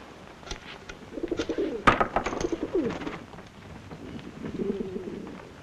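Pigeons coo in a vintage comedy film, several soft, throaty rolling coos close by, overlapping and repeated, with a sharp flutter or clap midway and quieter cooing trailing off at the end.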